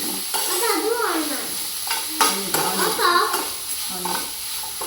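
Broccoli frying and being stirred in a pan at home, steady sizzle with scraping stirs throughout, a voice talking over it at moderate level.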